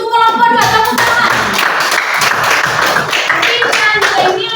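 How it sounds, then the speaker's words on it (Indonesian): A classroom group clapping for fellow students after a presentation, a loud burst of brisk hand claps mixed with voices, tapering into scattered claps. "Tepuk tangan."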